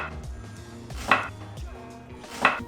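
A knife cuts the greens off a vegetable on a cutting board in two crisp, separate strikes about a second apart, close by, over a quiet kitchen background.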